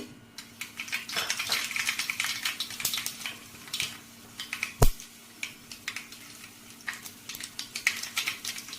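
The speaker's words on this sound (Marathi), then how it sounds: "तेल तापलंय, आता आपण टाकू यामध्ये राई," Mustard seeds crackle and pop in hot oil in a pan, a close, fairly quiet scatter of sharp sizzling bursts with one louder crack partway through.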